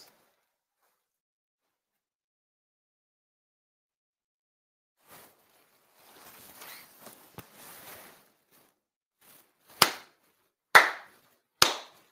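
Ritual hand claps at a Konko shrine ceremony. After a long silence there is quiet rustling, then three sharp, echoing claps spaced about a second apart, loud and close in a hushed room.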